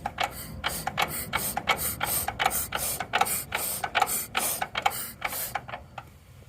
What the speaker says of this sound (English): the pony motor does not work. It's inoperable, but it does have compression. I'll let you hear.